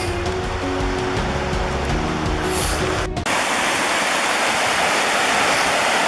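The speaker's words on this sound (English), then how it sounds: "The waterfall's right up there." A waterfall in Pisgah National Forest gives off a steady, full rushing roar that carries on evenly throughout, with a low tonal hum beneath it during the first half.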